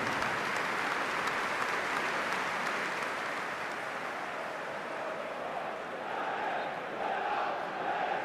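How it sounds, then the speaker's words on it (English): Stadium crowd applauding at a Premier League football match between Everton and Manchester United, a steady, dense wash of clapping that holds at an even level throughout as a tribute before kickoff. "a period of applause which starts and ends on the referee's whistle"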